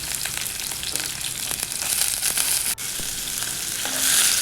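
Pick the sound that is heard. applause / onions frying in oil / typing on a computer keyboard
onions frying in oil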